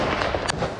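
A single sharp burst of gunfire from Israeli soldiers firing on Hamas targets from behind sand dunes, captured in news footage. It cracks out loud and close over a dense rumble of battlefield noise.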